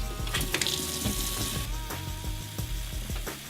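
Water rushing through RV plumbing lines while they are flushed with a cleaning mix, a steady close hiss and splashing flow with scattered small knocks and gurgles throughout, no voices.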